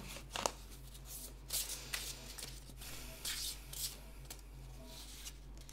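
Oracle cards for a shamanic healing reading are shuffled by hand in soft, close, intermittent riffles and slides over a steady low hum.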